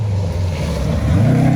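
A rally car engine drones steadily at close range, its low, sustained roar swelling slightly toward the end as it passes during a forest rally stage.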